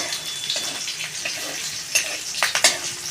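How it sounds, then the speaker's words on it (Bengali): Radhuni seeds with green and red chillies fry in hot oil for a fish curry, a bright steady crackle and sizzle up close, punctuated near the end by a few sharp spoon taps against the pan. "রাঁধুনি ফোড়ন দিয়ে দিচ্ছি আর দিয়ে দিচ্ছি কাঁচা পাকা লঙ্কা মশলাটা আমি লাল লাল করে ভেজে নেব"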